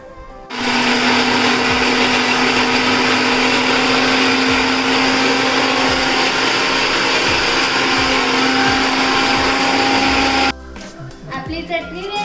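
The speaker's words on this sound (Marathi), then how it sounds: "बट मी मिक्सर मध्ये करते." A mixer grinder whirs at full speed grinding chutney, a loud, steady motor drone that starts abruptly, holds for about ten seconds, then cuts off, followed by a little clatter.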